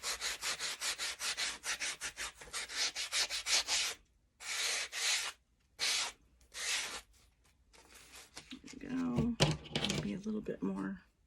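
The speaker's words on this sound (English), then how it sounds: "I'll go over it with a little bit of sandpaper" Sandpaper rubs back and forth over a craft surface in rapid, close strokes, pausing several times between bursts, with a voice speaking near the end.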